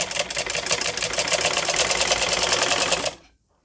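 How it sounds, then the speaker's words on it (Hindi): Sewing machine stitching along a folded fabric strip for a kurta side slit: a fast, steady, close rattling run of stitches lasting about three seconds, then stopping abruptly into silence. "अब हम इसके ऊपर सिलाई लगाएंगे"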